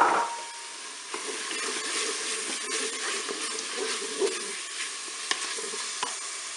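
Onion pieces sizzle and fry in a Cookeo multicooker on its browning setting, a steady close hiss with occasional stirring scrapes and small pops, no talking.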